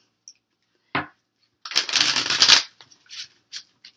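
Tarot cards are shuffled by hand up close: a single snap, then a dense riffle of roughly a second, and a few soft card taps afterward, with no talking.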